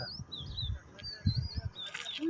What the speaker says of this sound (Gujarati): ચકલી બોલે છે અવાજ